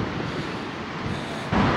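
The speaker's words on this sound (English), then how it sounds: "Ah yes, the Blackpool breeze, the wind. A big funnel of wind. I'm sure you can all hear it." Strong wind buffets the microphone on the Blackpool seafront, a loud steady roar mixed with the wash of the sea, with a gust swelling near the end.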